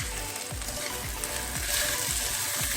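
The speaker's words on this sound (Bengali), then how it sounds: "আমি এবার মশলার মিশ্রণে ম্যাশ করা আলুটা মিশিয়ে দিই" Mashed potato being worked into a spice mixture in a pan for deviled eggs, with a steady sizzle and a series of soft, regular mixing strokes, close and moderately loud, no talking.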